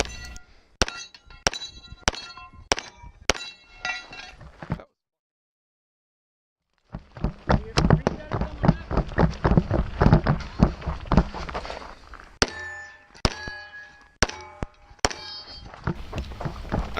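Pistol shots ring out at a steel-target shooting match stage, a fast run of sharp cracks with metallic clangs, a brief pause, then a long dense string of rapid shots and further hits.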